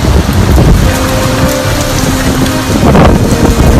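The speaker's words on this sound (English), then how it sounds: "Storm surge is starting to fill inside the lobby." Heavy storm rain pours down while a storm surge floods into a building lobby, a loud dense roar of water with wind and a low hum running underneath.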